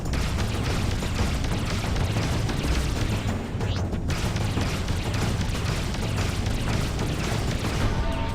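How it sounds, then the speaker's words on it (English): A mine shot and detonated in a space video game, a dense, continuous roar of booming explosion with heavy low rumble throughout, loud and sustained with no talk over it. "I shot the mine out of space"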